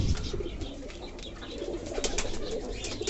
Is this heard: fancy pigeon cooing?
yes